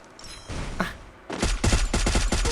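Rapid bursts of gunfire crack in the Free Fire video game, a few scattered shots first, then a loud, dense volley of rapid shots filling the second half, close and without speech.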